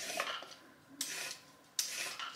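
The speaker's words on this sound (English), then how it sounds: "I'm gonna peel these carrots" Carrots being peeled in a home kitchen, with soft repeated scraping strokes and two sharper clatters, fairly quiet and close.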